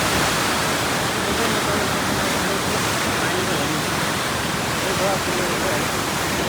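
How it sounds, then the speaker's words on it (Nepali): Water gushes through an opened sluice gate near Janakpur, Nepal, a loud, unbroken roaring rush that stays steady and close throughout. "यो ढोका खोलेपछि पानीको बहाव"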